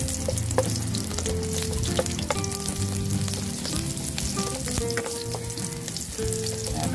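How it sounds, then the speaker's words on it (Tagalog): Garlic sautés in hot oil as the base for chicken estofado, a close, steady sizzle with stirring noises and faint utensil clinks throughout. "Magigisa muna tayo. Lagyan natin na konting mantika. Lagyan natin yung bawang."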